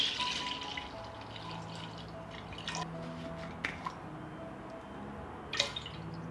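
Milk poured into a deep cooking pot, giving a gentle liquid trickle with scattered drips and splashes at moderate volume and no talking.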